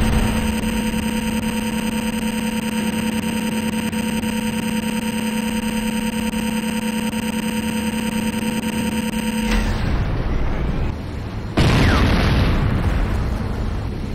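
Explosions of destroyed buildings in the video game Renegade: steady in-game noise with tonal hum gives way to a loud, broad roaring blast, then a second sharp, heavy burst follows a brief lull.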